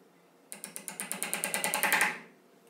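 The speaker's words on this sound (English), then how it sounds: "This is a 1 1/4 inch finish nail and our claw hammer, and we're going to nail that in." Claw hammer driving a 1 1/4 inch finish nail into a board: about fourteen sharp, evenly spaced metallic blows in quick succession, close and steady, ending as the nail seats.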